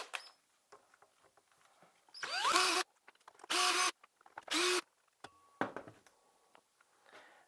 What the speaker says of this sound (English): Next, remove these three bolts here on the bottom.